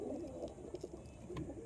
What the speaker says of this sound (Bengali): এত সুন্দর পায়রা দুটো